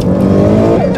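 Alfa Romeo GTV, a 440 bhp sleeper, revving hard in second gear with a loud, steady engine drone that climbs in pitch near the end, recorded from inside the car.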